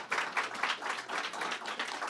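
Audience applause at a governor's press event, a short, faint patter of clapping from a small group with a loose, uneven rhythm.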